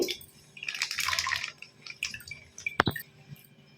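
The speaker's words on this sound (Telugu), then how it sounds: "ఇది ముందుగా పాలు పోసుకుందాం." Milk being poured into a vessel while making junnu, a short burst of liquid splashing followed by scattered drips and one sharp clink, close and quiet.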